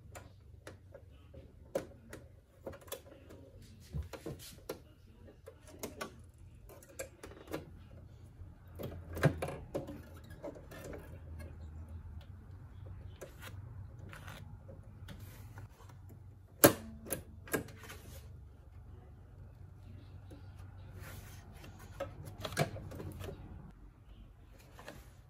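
A home embroidery machine stitching an in-the-hoop project, a quiet steady rapid ticking rhythm with occasional louder clicks and knocks nearby, no talk.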